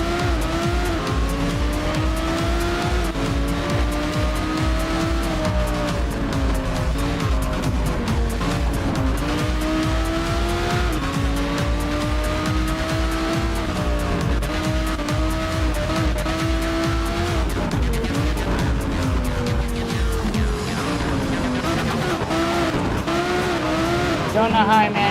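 Race car engines in Need for Speed Shift 2 Unleashed roar loudly and climb through gear shifts, with tires squealing and skidding through corners and a voice talking over the racing.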